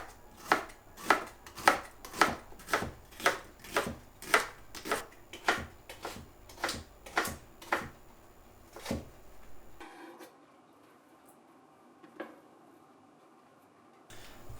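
A knife slices onions on a cutting board for Japanese omurice, about fifteen crisp, evenly spaced chops close by, then the cutting stops and only faint room sounds and a single small knock follow.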